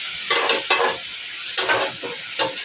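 Drumstick leaves and egg stir-frying in a home kitchen pan, a constant sizzle punctuated by repeated rhythmic scrapes and tosses of a spatula, close up with no voices.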